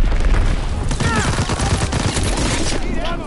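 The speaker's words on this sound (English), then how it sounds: "Popping Fritz X bomb." A Fritz X guided bomb strike in Call of Duty: WWII lands as a dense, rumbling barrage of booms and crackling blasts, loud and close, with a faint voice beneath.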